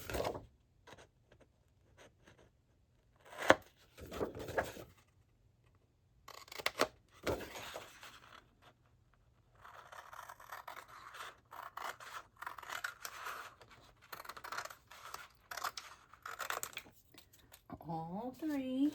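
Scissors snip through paper for a Christmas scrapbook mini album, with clusters of crisp cutting strokes, some rapid and some spaced out, close to the microphone in a quiet room, with occasional soft talk.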